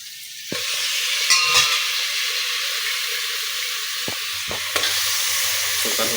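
Chicken pieces sizzle and fry in a pan for biryani, stirred steadily with a spoon, with a few scraping knocks against the pan over a continuous close hiss.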